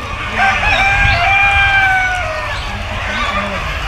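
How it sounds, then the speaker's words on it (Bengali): Sonali chickens on a large poultry farm give loud, close, drawn-out calls and clucks, overlapping for a few seconds before fading back into the open-air farmyard ambience. "অনেক বড় খামার, মুরগির খামার।"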